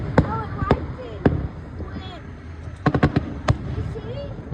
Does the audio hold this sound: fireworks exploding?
yes